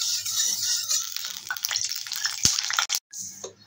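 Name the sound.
oil heating and sizzling in a wok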